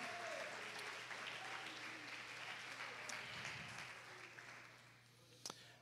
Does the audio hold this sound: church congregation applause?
yes